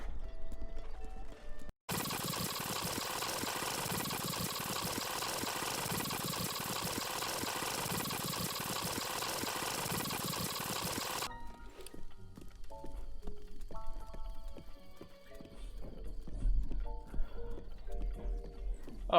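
A horse gallops across open ground in a Zelda game, heard as a steady, dense rumble of fast hoofbeats for about ten seconds that then stops, giving way to quieter game sounds.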